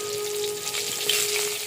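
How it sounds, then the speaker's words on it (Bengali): Pointed gourds stuffed for a prawn dish frying in hot oil in a wok, giving a steady, dense sizzle that runs evenly throughout without any talk. "এবার পটলগুলোকে এক এক করে ভেজে নেব।"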